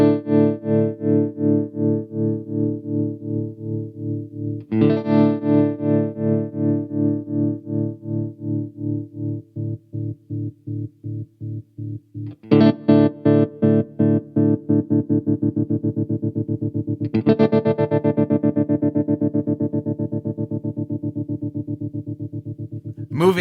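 Guitar chords through a Hardwire TR-7 tremolo pedal set to a square wave shape, volume chopping on and off in a steady pulsing rhythm, with chords struck anew several times and the pulse rate shifting, loud and alone.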